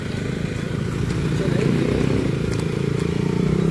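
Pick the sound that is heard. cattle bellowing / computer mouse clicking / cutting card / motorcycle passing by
motorcycle passing by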